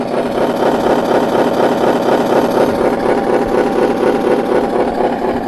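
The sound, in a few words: Scania 1/18 scale RC truck engine sound effect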